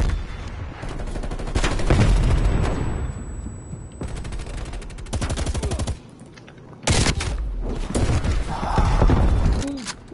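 Rapid bursts of nail gun fire in a multiplayer shooter video game, loud repeated mechanical shots with brief pauses between volleys, layered over other game effects.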